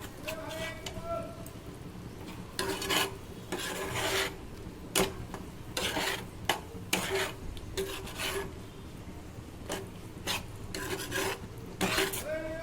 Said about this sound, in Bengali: এবার আমি খানিকক্ষণ ভালোভাবে কষিয়ে নেব